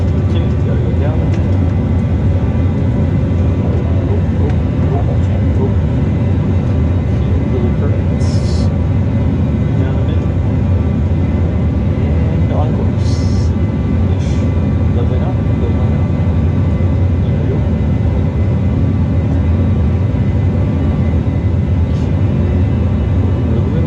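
A simulated fixed-wing aircraft engine in a flight simulator gives a loud, steady drone that runs unbroken for the whole stretch, with a few brief higher hisses on top.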